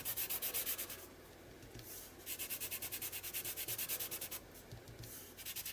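A finger rubbing and blending paint on paper in quick, rhythmic back-and-forth bursts of soft scratchy friction, close and fairly quiet, with brief pauses between strokes.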